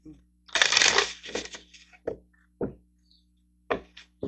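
A deck of tarot cards is shuffled close up in a quiet room, a bright riffling burst followed by several short taps and slaps as the cards are squared and tapped together.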